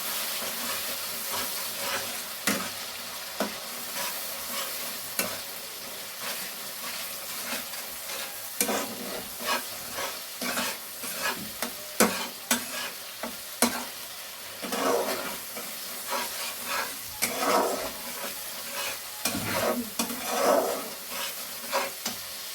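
A spice mixture stirred in a bowl for an egg keema dish, a steady scraping and mixing texture with irregular louder strokes and a sizzling, frying-like hiss throughout, no voices.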